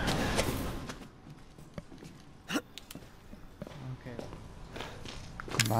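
Footsteps in the survival horror game Resident Evil 7: Biohazard: a few close, soft thuds and scuffs scattered over a quiet, rumbling background, with one sharper impact near the middle.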